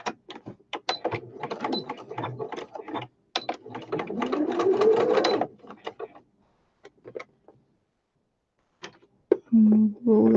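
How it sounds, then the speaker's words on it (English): Sewing machine stitching fabric for a handmade flower basket, running in two close bursts of rapid mechanical whirring, then falling quiet before a voice briefly speaks at the end. "sew this down so you can sew the other side."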